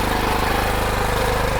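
A small farm machine's engine, started by rope pull, runs steadily at a low idle with a continuous throbbing rumble, close and alone without talk.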